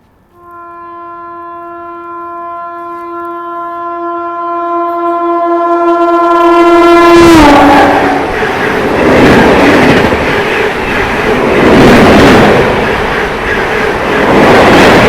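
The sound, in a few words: passing train with train horn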